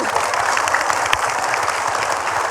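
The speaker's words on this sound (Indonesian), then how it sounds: "Tepuk tangan" A studio audience at an Indonesian religious talk show claps together in dense, sustained applause that fills the room evenly for a couple of seconds.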